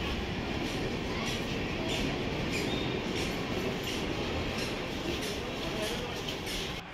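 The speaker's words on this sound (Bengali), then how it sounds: "আর এদিকে একটা ট্রেন ঢুকছে।" A train pulls into a station near Surat, with a loud, continuous rumble of wheels on rails, rhythmic clatter and faint squeal, heard close and steady throughout.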